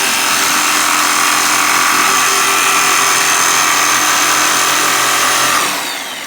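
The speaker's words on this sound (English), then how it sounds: "Let the blade do the cutting. You don't have to do a lot of forcing of the machine." Power saw blade running steadily through wood for an Adirondack chair in a school wood shop, a loud continuous whine held for several seconds before it tapers off near the end, with no talking.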